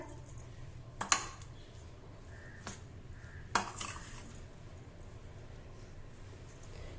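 Salt and a pinch of sugar are stirred into a radish chutney with grated coconut, producing a few sharp spoon clinks against the pan over a quiet background.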